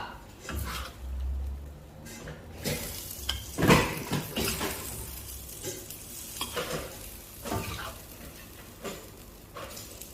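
Squid (sotong) frying in a pan, a steady sizzle with stirring scrapes and utensil clinks, moderately close, with a few faint voices in the background.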